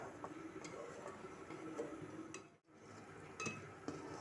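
A spoon stirring Punjabi kadi in a pot, making faint, fairly regular clinks and scrapes against the pot over a quiet kitchen background.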